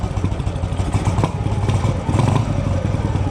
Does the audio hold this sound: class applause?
no